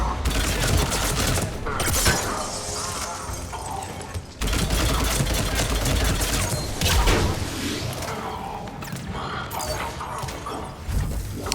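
Phaeston assault rifle fire in Mass Effect 3, a dense, continuous stream of rapid shots and mechanical clatter that pauses briefly near the four-second mark, then resumes loudly.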